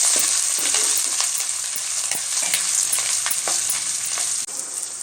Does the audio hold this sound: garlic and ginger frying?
yes